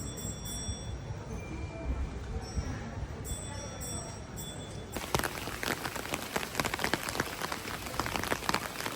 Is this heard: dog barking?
no